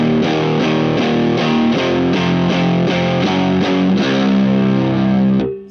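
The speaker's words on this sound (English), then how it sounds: "We're now going into the dirty channel of the amp." An electric guitar plays through the dirty channel of an amp, heavily distorted. Thick, buzzing chords are struck in a steady rhythm, loud and close, for about five seconds before cutting off abruptly.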